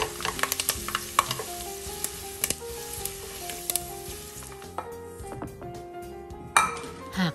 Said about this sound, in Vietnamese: Để trang trí cho món cá nướng đẹp thì xả sắc sợi và chiên cho